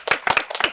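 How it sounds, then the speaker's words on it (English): A small group claps for themselves in quick, close bursts, with several loud, sharp handclaps bunched together in a short, uneven rhythm. "Clap for yourself."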